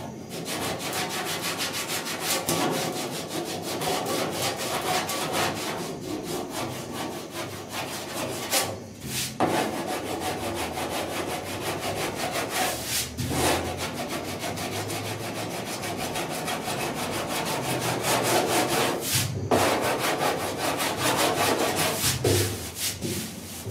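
Steady back-and-forth rasping of a flat sanding block over body filler on a 1966 Ford F100 dash, continuous close scraping strokes with a few brief pauses, no talking.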